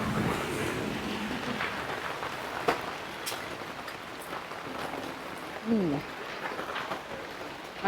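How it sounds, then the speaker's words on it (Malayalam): Heavy rain pours in a steady broadband wash, with scattered drips and voices heard faintly over it. "നല്ല മഴ നമ്മൾ നിർത്തിയപ്പോൾ അത്ര മഴയില്ലായിരുന്നു"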